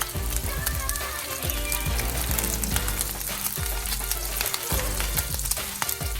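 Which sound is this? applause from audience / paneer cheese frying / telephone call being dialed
paneer cheese frying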